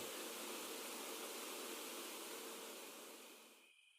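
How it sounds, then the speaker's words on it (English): Steady broadband hiss of old television static playing close behind the listener, loud and constant before abruptly cutting off at the end. "Like there was an old TV playing static placed right behind my head."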